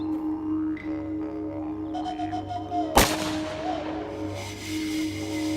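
A single sharp gunshot sound effect cracks midway through a hunting scene in an audio drama, rising loud and sudden over a quiet, low ambient bed.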